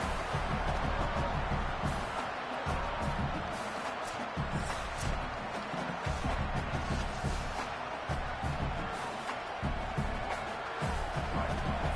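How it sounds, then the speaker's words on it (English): A stadium crowd in the College Football 27 video game roars in a loud, continuous wall of cheering that surges throughout, with commentary faintly underneath. "The roar of the crowd trying to fuel this defense to keep them pinned in their own end."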